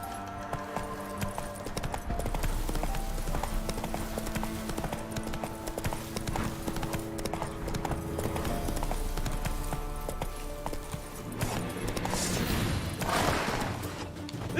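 A horse gallops in a video game, its hoofbeats drumming steadily and close throughout, with a few heavier crashing thuds near the end.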